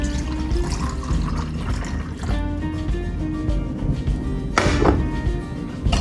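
Spanish hot chocolate pours into a cup with a steady liquid stream and gentle trickling, close and fairly quiet, ending with a brief splashy burst near the end.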